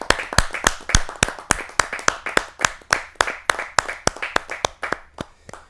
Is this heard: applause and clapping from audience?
yes